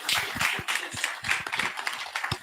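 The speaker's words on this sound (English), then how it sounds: "Let's give the permanent secretary another round of applause" Applause for a permanent secretary at a ceremony marking the Veterinary Council of Nigeria's 70th anniversary and digitization project launch; a steady crowd of hands clapping briskly and continuously, fairly close and even, with no voices over it.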